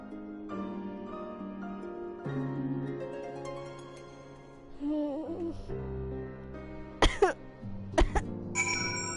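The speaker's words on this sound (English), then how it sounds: "Cough up blood." A few short, sharp coughs as a character coughs up blood in Final Fantasy XIV, over a steady electronic music bed, sounding like video game effects.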